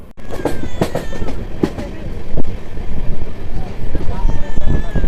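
The 13173 Sealdah–Sabroom Kanchanjunga Express, running with new LHB coaches, pulls away with a loud, continuous rumble and rhythmic wheel clacks, heard from inside a crowded coach with faint voices.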